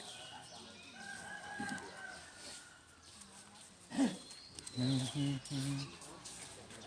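Chickens cluck in short repeated bursts close by, over a murky background of distant voices and outdoor noise.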